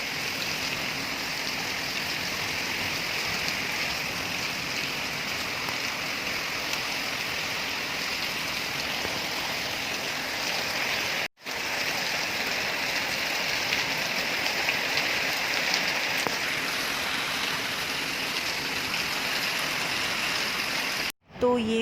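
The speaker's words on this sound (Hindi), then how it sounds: "बारिश बहुत तेज़ थी" Heavy rain pours steadily outside a gate at night, a dense, loud hiss that runs almost without a break, cut off briefly twice.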